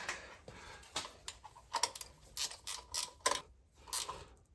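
A 12 mm wrench tightens a belt pulley in an off-grid workshop, giving quiet bursts of ratcheting clicks and small metallic ticks in an uneven rhythm, close by, with no talking.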